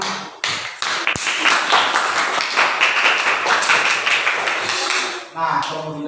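A class of schoolchildren claps hands together in a dense, irregular burst of applause lasting several seconds, with voices mixed in before it fades.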